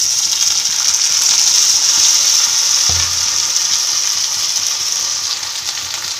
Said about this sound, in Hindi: अब जब ऑनियंस इस टाइप से रेड होकर फ्राई हो जाएगा, ब्राउन हो जाएगा, तो इसमें हम टमाटो छोड़ेंगे